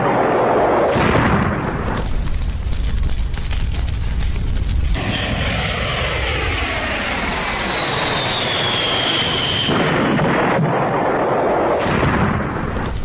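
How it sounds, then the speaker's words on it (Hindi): Air India flight 171 crashes after takeoff from runway 23 in Gujarat, a loud, continuous jet roar swelling into a deep, rumbling explosive blast that stays heavy and sustained throughout. "जैसे ही प्लेन क्रैश होता है पूरी तरह से टुकड़ों में बिखर जाता है, जोरदार धमाका होता है"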